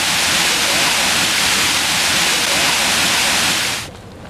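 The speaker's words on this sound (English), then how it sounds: "And I hear a water feature." Loud, continuous splashing of an outdoor water feature close by at Capilano Suspension Bridge Park, a dense rushing hiss that drops away abruptly near the end.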